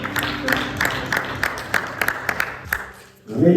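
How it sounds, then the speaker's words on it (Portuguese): A church congregation claps in steady, dense applause for about three seconds, fading out before a voice begins speaking. "Você pode aplaudir o Senhor nessa tarde?"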